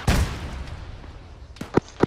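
Rocket-propelled grenade fire in the Arma 3 military shooter: a sharp booming blast at the start with a rumbling tail, then two further loud cracks near the end, fairly close.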